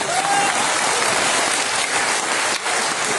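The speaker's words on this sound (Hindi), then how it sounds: "ताली बजाए तो जोर से बजाए।" Audience at a goldsmiths' community gathering clapping loudly, a dense, even roar of many hands that stays strong throughout with a brief dip near the end, no voices over it.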